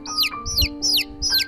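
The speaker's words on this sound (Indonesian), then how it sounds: "Kenapa anak ayam pada ribut?" Baby chicks in or near a backyard coop give four shrill, falling peeps in a steady rhythm, fairly close and clear over a low background rumble.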